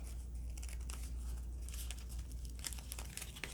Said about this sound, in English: I've got to shuffle the cards for the Autobots